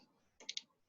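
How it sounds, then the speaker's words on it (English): Two quick, faint mouse clicks close together at a computer while running a Google Earth Engine script in a quiet room. "click on run here."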